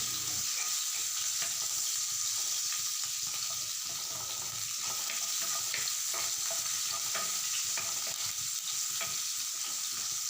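Onion and green chilies sizzle in a kerahi wok with a constant bright hiss, broken by frequent rhythmic scrapes and taps of stirring at close range.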